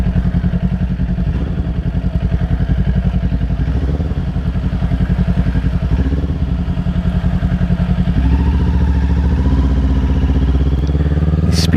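A motorcycle rides over big speed bumps. A loud, steady, close engine drone runs the whole time, with rhythmic rattling clatter and occasional thuds from the bike over the bumps.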